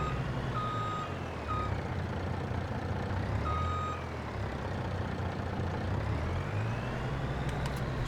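A truck hauling a trailer through forest land in Farming Simulator 22 drones with a steady, loud engine hum, while short beeps repeat several times over it and no one speaks.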